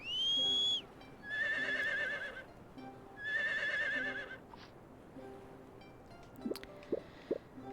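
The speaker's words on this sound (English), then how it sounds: "We'll whistle for our horse so it will warp back to Lilikala." A horse in the Harvest Moon video game is whistled for: a short rising whistle, then two drawn-out whinnying neighs, followed by a few light clip-clop hoof taps near the end.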